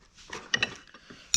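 A wrench turns on the track control of a Vermeer S400TX in snowy weather, giving a few short metallic clicks and ratchety taps, close and fairly quiet with no talk.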